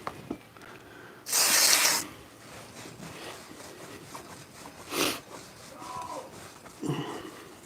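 Penetrating oil sprayed from an aerosol can onto a greasy Suzuki GSX 1250 FA motorcycle part: a loud hissing burst of about a second, then shorter, fainter spray bursts later, with light background noise between.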